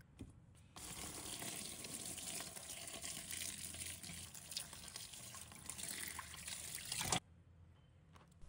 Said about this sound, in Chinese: 现在把泡好的包菜清洗干净